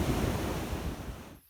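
Ocean waves breaking and washing up on Sheila's Beach, a broad, fairly soft rushing surf with some wind noise on the microphone, fading out at the very end.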